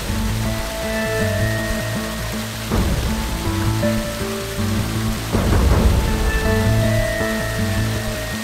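Steady heavy rain pours down with low rumbles of thunder rolling in twice, loud and continuous, with a background musical drone underneath and no one speaking.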